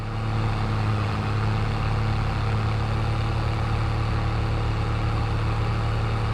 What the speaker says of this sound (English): this engine sounds nice